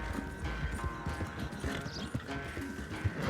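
A horse gallops in Red Dead Redemption 2, its steady, rapid hoofbeats thudding close and loud over a sustained tonal music bed.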